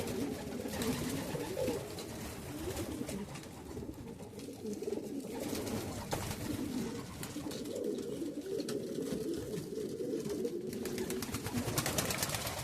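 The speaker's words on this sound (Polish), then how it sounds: "O, Hurikan 51 grucha." Racing pigeons coo steadily at close range inside a loft, a low continuous murmur of several birds with no talk over it.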